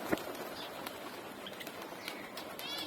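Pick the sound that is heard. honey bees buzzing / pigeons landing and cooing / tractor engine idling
pigeons landing and cooing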